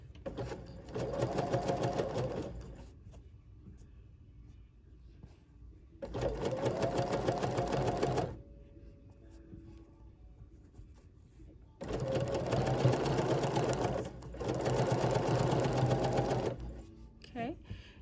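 A Bernina sewing machine fitted with a #39 clear embroidery foot stitches cording in four loud, close mechanical runs, each a few seconds long, separated by quieter pauses.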